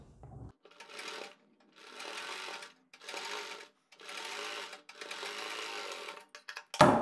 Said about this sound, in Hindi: अब हमें जितनी चौड़ी पाइपिंग चाहिए उतनी ही चौड़ी सिलाई हम इसके ऊपर लगाएंगे।